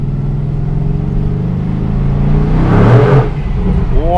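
A Mercedes-AMG GT R's V8 roars from inside the car as it accelerates, with the exhaust note swelling to a brief peak, then easing.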